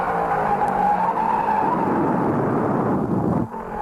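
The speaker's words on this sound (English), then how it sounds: "Buddy Baker crashes into H.P. Bailey's spinning car." Race cars at the 1967 Southern 500 NASCAR Grand National event, a loud sustained engine roar with skidding as a spinning car is struck, the noise dropping off abruptly near the end.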